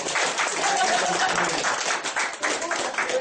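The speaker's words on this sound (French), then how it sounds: "On applaudit Dentry." An audience at a school theatre festival applauds a performing team, making a continuous wash of many hands clapping at once that stays fairly loud and even throughout.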